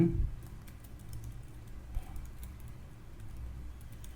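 Keyboard typing while writing code for an ASP.NET Core 6 API project, a light, steady patter of quiet keystrokes continuing throughout at a soft, close level with no voices.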